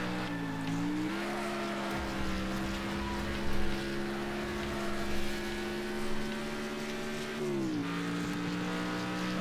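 Opponent car engine in the Next Car Game racing game, a loud steady droning hum that rises in pitch near the start and dips near the end, running alone without talk.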